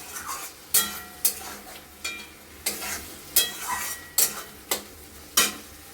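Goat meat and spice paste are stirred and sautéed in a hot pan, with sharp repeated scraping strokes of a utensil at an irregular rhythm over a constant low sizzle, close and clear.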